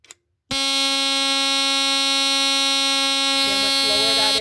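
A 1977 GE Home Sentry smoke alarm, model 8203 001, sounds its buzzer after a brief click, a loud, harsh, steady electric buzz held continuously up close, with faint background noise near the end.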